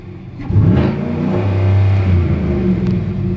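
A 2017 Chevy Silverado LTZ pickup engine roars as it is floored, pitch climbing and holding high around 3,000 to 4,000 RPM, then easing off; loud and close, no speech.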